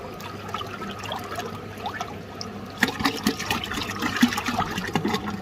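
Water churned in a tank with fermented protein liquid for cattle feed, a steady sloshing and trickling wash that grows busier and louder partway through.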